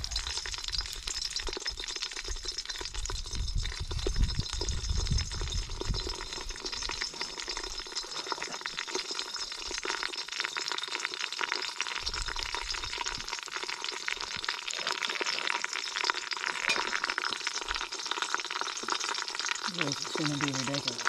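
Pork sizzles and fries with bacon in a cast iron kettle, a dense continuous crackle with occasional stirring scrapes, close and steady throughout.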